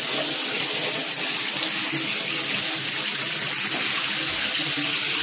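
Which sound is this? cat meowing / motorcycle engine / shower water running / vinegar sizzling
shower water running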